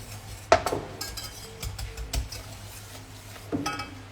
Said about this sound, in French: On va mettre nos framboises.